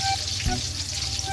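Pork frying in oil in a pan, a soft steady sizzle with faint spattering crackles, heard close and fairly quiet with no talk over it.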